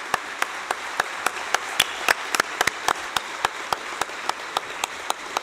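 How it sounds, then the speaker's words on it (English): Applause in a plenary session hall for a farewell between Presidents Kenyatta and Macron. A few sharp, scattered claps repeat at an uneven rhythm over a quiet room, sounding sparse and fairly close. "let's give a round of applause as President Kenyatta is going to bid farewell"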